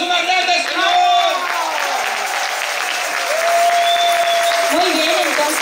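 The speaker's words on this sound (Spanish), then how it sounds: "¡Un aplauso más grande, Señor!" Audience applause at a 50th-anniversary jubilee celebration of a Catholic charismatic renewal gathering in Chile, steady and loud for the whole stretch, with crowd voices and a few tonal cheers or calls mixed into the clapping.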